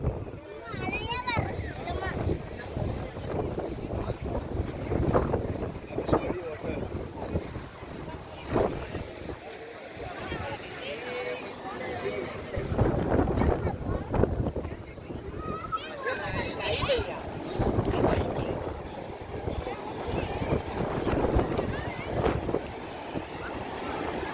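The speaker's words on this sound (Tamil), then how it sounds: "போற அப்படியே அவ்வளவு ஃபாஸ்டா அடிக்குது அலை" Sea waves surge and crash on the shore at Arichalmunai, Rameswaram, a loud, continuous wash with gusty wind noise on the microphone, while people talk over it throughout.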